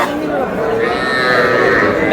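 A single long, drawn-out moo from a young bull calf, close and loud, lasting the whole moment, at a cattle market.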